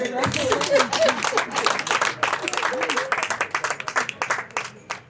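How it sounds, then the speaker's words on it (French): An audience at a recruitment open day in Togo breaks into scattered applause, claps loosening into separate sharp strikes toward the end, with a voice speaking over the start. "Faut applaudir au moins"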